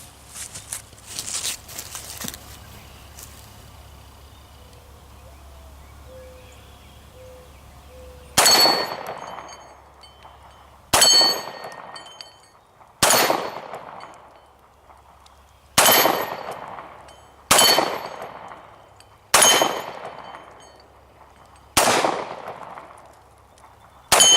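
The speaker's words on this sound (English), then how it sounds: "we'll shoot some of the plates, maybe hit the bottoms of the bowling pins" Seven sharp, loud pistol shots from a Ruger P89, each followed by a ringing metallic decay as steel plates are hit, spaced roughly two seconds apart after a quieter stretch of handling noise.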